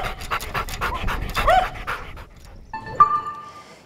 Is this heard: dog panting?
yes